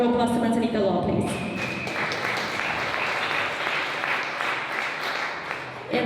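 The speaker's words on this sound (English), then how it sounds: "So a round of applause to Manzanita Law, please." An indoor audience at a talk on AI talent gives a sustained round of applause, steady dense clapping that follows a brief bit of speech at the start and carries on to the end.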